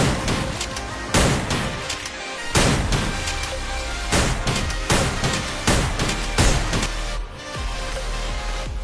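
An M590 shotgun in a video game fires about a dozen loud, close blasts at irregular intervals of roughly half a second to a second, with brief reload sounds between some shots.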